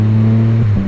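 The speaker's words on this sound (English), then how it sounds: "you can see me like hitting the gas, and you can see the bike goes" A three-wheeled motorcycle fitted with a Pedal Commander throttle controller accelerates, its engine giving a loud, steady drone close by that shifts pitch near the end, with no talking.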